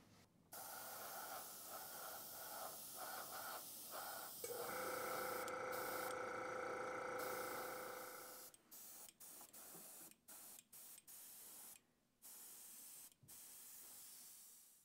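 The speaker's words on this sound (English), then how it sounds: "Just going to put in the airbrush unthinned and start spraying a primer coat." An airbrush sprays unthinned Vallejo German Red Brown surface primer onto a model gravel trailer, a steady close hiss for several seconds, then short on-off bursts of spraying with brief gaps between them.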